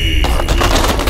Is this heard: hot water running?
no